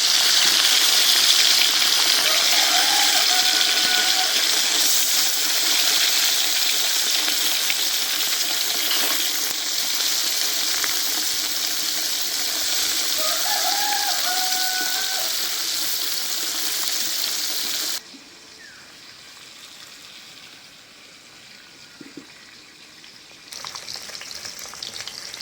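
Ilish bata fish frying in hot oil, a loud, steady close-up sizzle and hiss for most of the time, then dropping abruptly to a faint crackle before rising again briefly.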